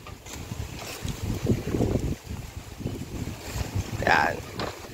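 Gusty wind blowing over a river, rough broadband rumble with a brief voice-like tone near the end, heard from a boat out fishing in cool weather.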